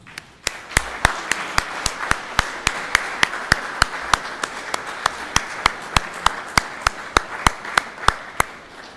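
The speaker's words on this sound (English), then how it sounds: "Let's give our guests a round of applause." A graduation ceremony audience applauds the guests with a steady run of crisp, individual claps standing out over a softer bed of crowd clapping, lasting the whole stretch.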